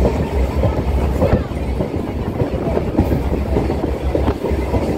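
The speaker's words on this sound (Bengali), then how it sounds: "ট্রেন চলতে থাকে, একসময় আপনি নামখানা পৌঁছে যাবেন" A passenger train runs steadily on rails through open rice fields between Kakdwip and Namkhana, its loud continuous rumble carrying a rhythmic clickety-clack throughout, with no one speaking.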